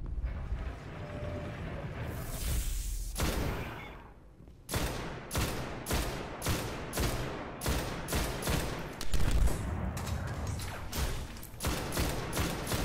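Rapid bursts of gunfire from a powerful scoped gun in the video game Destiny, during the final story mission, ring out in repeated sharp volleys after a short lull, loud and close with no talk.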